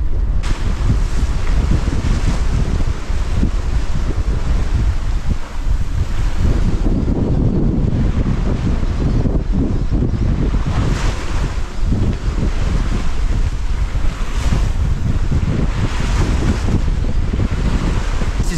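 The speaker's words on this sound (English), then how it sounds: "Oh, wind coming." Strong wind buffets a sailboat at sea off New Zealand, a loud, constant rushing roar with gusting microphone noise and the wash of waves, no voices heard.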